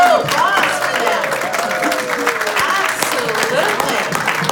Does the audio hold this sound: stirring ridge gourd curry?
no